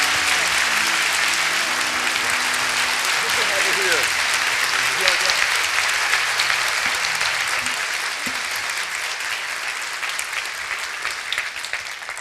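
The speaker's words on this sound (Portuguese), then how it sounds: "eu queria que a gente recebesse com a nossa melhor salva de palmas, pastor Irving McManus." Church congregation applauding to welcome a visiting pastor, dense sustained clapping throughout that slowly thins toward the end, with a voice speaking over the start.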